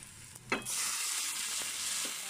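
Potatoes fry in a pan over sautéed onion and garlic, a steady close sizzling hiss that swells after a brief clatter at the start, with a couple of faint stirring taps.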